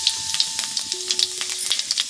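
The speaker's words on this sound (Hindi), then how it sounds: "अब इमा जीरा का डाल देते हैं, जीरा का तड़का।" Cumin seeds crackling in hot oil for a village-style tempering, with quick sharp pops and a steady sizzle close by, and no talk.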